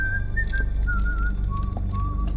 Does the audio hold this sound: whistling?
yes